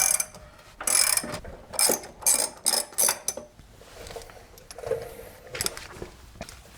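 Ratchet turning out the control arm bushing bolts on a 2000 Chevy Silverado front suspension: bursts of fast, close metallic clicking with brief pauses between strokes, fainter scraping and clinks later.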